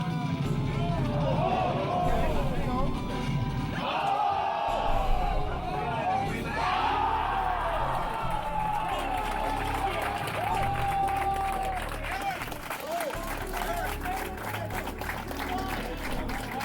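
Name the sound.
loud crowd reaction at Project M tournament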